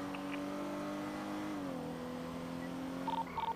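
A video-game car drives around city streets, its engine a steady mid-pitched drone that shifts down a step partway through, with short electronic beeps near the end.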